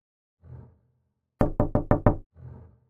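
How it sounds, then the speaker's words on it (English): Five quick, sharp knocks on a door in an even rhythm, loud and close, with soft muffled sounds just before and after. "I heard a knock at the door."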